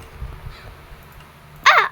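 A single loud crow caw sounds near the end, preceded by faint low rumbling and quiet background noise.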